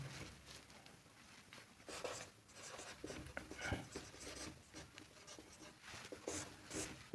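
Writing on a board during a calculus lesson: faint, continuous scratching and tapping strokes with an uneven rhythm over a hissy, quiet background, with no speech.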